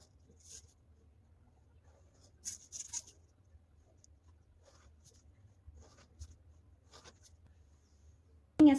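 Pen drawing lines along a ruler on a paper checkerboard, quiet scratchy strokes arriving in short bursts separated by near silence, ending with a louder knock.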